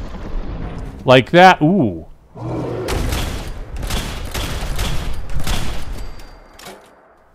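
Gunfire in a Fallout 4 fight: a run of sharp, loud shots in rapid bursts follows a short excited vocal exclamation, the reports close and punchy with echoing tails.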